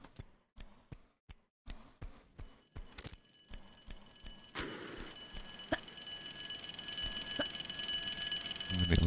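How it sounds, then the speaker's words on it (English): An alarm sounds in Tomb Raider II, starting as a run of sharp evenly spaced beeps and then becoming a continuous tonal alarm that grows steadily louder. "And the alarm's still going."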